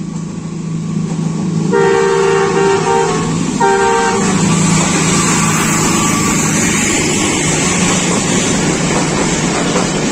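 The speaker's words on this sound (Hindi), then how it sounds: "जी रावल एक्सप्रेस पहुँच चुकी है।" Pakistan Railways 105 Up Rawal Express from Lahore to Rawalpindi passes at good speed, its horn sounding in two loud blasts, the second shorter, over a steady rumble of wheels on rails that continues to the end.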